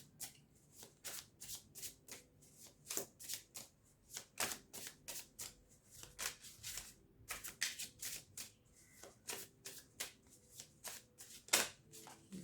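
Tarot cards shuffled by hand, a steady run of crisp riffling slaps and flicks repeating close up and fairly quiet, with no talking.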